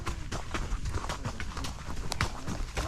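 A horse's hooves clip-clop at a steady walking rhythm on the Pacaya volcano trail, close and fairly loud, with gusts of wind and light movement around them and no talk.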